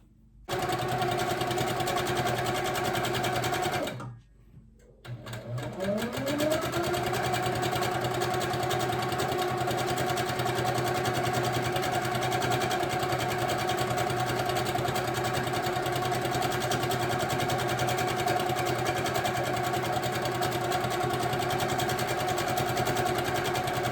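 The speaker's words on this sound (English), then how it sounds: "I'm going to keep on stitching, and we'll see how this finishes out." An HQ quilting machine stitching ice-dyed fabric hums with a steady, rapid needle drone that briefly stops, then spins back up and runs continuously, close and loud with no talking.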